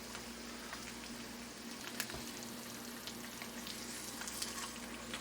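An egg sizzles and fries steadily in a carbon steel pan, a dense continuous crackle with faint pops and light spatter, close and fairly quiet, with no talking.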